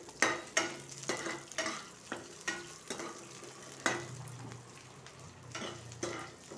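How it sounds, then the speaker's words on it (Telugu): Urad dal sizzling in hot oil for a tempering while being stirred, crackling frying noise with repeated scraping bursts of stirring, close and steady with no talk. "పోపులోకి మినపప్పు. ఇప్పుడు ఇది బాగా వేగనిస్తాను."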